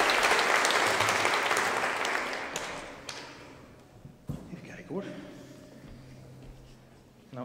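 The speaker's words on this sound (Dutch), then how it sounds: "zullen we er een warm aanmoediging, positief iets, applaus geven voor het werk wat ze mogen doen" Warm audience applause at a community gathering, loud at first, then dying away into scattered claps, with a voice speaking afterward over faint room noise.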